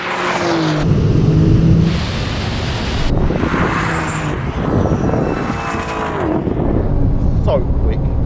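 Dodge Demon muscle car with its wheels spinning, engine roaring loudly and continuously with rising and falling revs and tyre noise, while voices talk over it.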